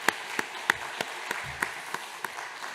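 A few people clapping during a Sunday church worship service: sparse, evenly spaced single claps, roughly one every third of a second, quiet and somewhat distant in a reverberant room, with no talking.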